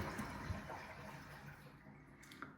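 Water drains and gurgles out of a toilet tank after a flush, a soft continuous rushing and trickling that fades slightly toward the end.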